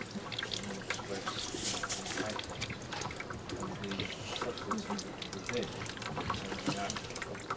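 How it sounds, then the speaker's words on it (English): Apple juice drips and trickles from a fruit press, a continuous liquid patter close by, with people talking over it. "What's that dripping down there? Is that juice already?"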